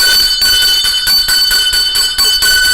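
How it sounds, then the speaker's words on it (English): A bell rings out to announce a contest winner, a steady bright ringing with strong sustained tones and rapid repeated strikes throughout, loud and close with no talk over it. "Ring the bell, we have a winner."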